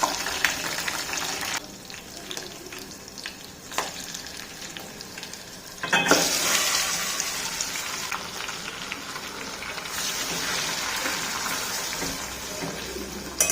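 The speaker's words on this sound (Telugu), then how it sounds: "అట్లనే ఫ్రై అయితే మంచిగా ఉంటుంది చికెన్" Gongura chicken pieces sizzle and fry in a pan, a steady close crackle with stirring scrapes and a louder burst of sizzling midway as more goes in; no talking.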